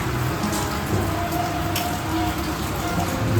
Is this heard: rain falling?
yes